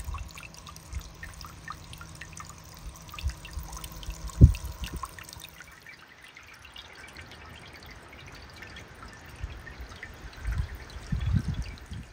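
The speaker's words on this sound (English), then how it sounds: "it is day 2 of trying the little water fountain" A small water fountain trickles into a bird bath, a faint, quiet flow broken by a few sharp drips, with a soft rise in low splashing toward the end.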